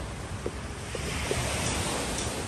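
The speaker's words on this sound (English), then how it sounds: "with any luck you can hear the waves from the ocean and people doing things" Steady broadband wash of ocean surf and wind at a beach, a continuous roar with no distinct breaks, fairly faint overall with a few soft thumps of wind against the microphone.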